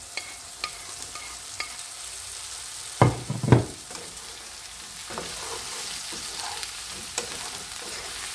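Brussels sprouts tip into hot butter in a pan with two loud thuds, then a steady sizzle and frying hiss continues with occasional stirring scrapes.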